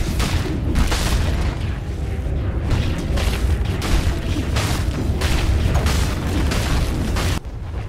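Dota 2 tower under attack, with a dense barrage of loud booming explosions and battle noise pounding steadily throughout, briefly easing near the end.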